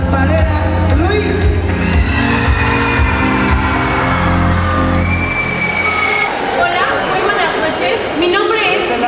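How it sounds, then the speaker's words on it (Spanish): A crowd at the Reina de la Feria 2023 pageant in Teziutlán cheers and shouts for a candidate, with dense, loud, continuous noise, voices rising over the din and then fading out near the end. "Fuertes aplausos para recibir a Griselda Varela Ruiz."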